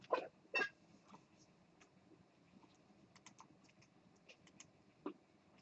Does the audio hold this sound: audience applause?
no